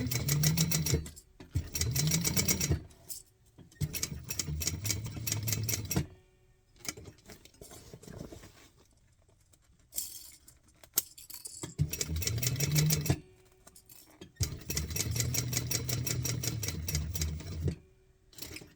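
A sewing machine stitches over a seam in several bursts of fast, rattling needle strokes separated by pauses with faint handling noise, heard close up with no talking.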